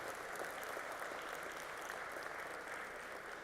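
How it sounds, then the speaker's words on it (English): Faint, steady applause from an audience at a college gala, a soft continuous patter of clapping heard from a distance. "May we also have a round of applause for Steve"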